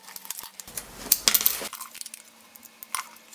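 An HTC Evo 3D phone has its back opened and battery pulled out: a series of small sharp plastic clicks and rattles, close and fairly loud, clustered in the middle with a few scattered taps after.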